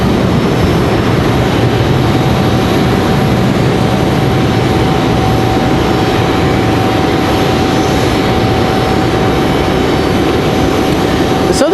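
An Airbus A321 airliner landing at Raleigh-Durham airport with a slight nose bounce on touchdown, heard as a continuous, fairly loud jet rumble with a thin steady whine on top that lasts the whole time.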